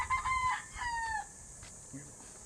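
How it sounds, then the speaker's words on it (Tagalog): Roosters crowing and chickens clucking at a veteran fancier's loft in Ternate, with a couple of loud crows up close followed by softer clucks and a brief voice in the background. "Daming alagang manok, oh."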